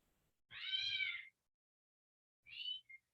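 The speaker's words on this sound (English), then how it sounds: "He is the smartest kitten I've ever met." A kitten meows twice indoors, first a drawn-out mew and then a shorter one with a brief chirp at the end, faint and alone with no talk.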